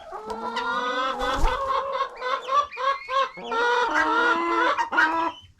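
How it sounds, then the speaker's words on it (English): Silkie chickens clucking and squawking in bursts close by, with one rising, crow-like call from a Splash Silkie rooster in the middle. "So that right there is our Splash Silky Rooster."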